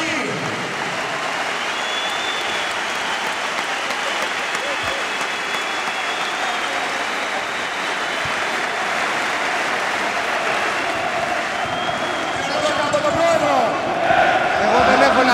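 Sustained applause fills the room at an award ceremony honoring a Panathinaikos basketball figure, a dense steady roar of many hands that swells louder near the end.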